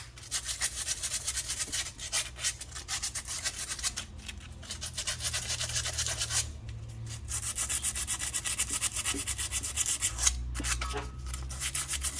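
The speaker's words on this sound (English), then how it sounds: "I'm going to do also a little bit of sandpaper." Sandpaper rubs steadily across the face of a front brake rotor on a 2016 Kia Sedona, a continuous close scratchy rasping that swells and eases with each stroke, heard alone without talk.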